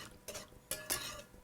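A spoon stirs chicken broth into green enchilada sauce in a pot on the stove, making a few quiet, brief scraping strokes.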